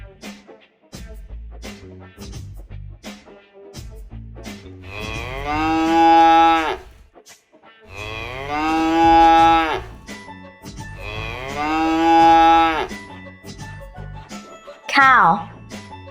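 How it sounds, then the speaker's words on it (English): Cattle on a farm mooing loudly and close, three long drawn-out moos in a steady rhythm with short gaps, ending in a brief higher-pitched call. "Cow,"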